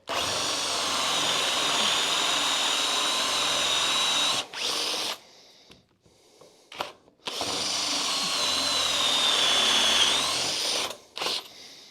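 A brand-new bit bores into a 3.5-inch wooden newel post, the power drill whining loudly and steadily in two long runs separated by short stops and brief restarts, with no talking.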